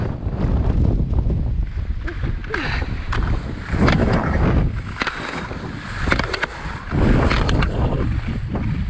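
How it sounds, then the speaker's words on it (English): A strong gust of wind buffets the microphone on a ski slope on a rough-weather evening, roaring and swelling in uneven surges that dominate the whole stretch. "Massive gust of wind as I attempt to set off."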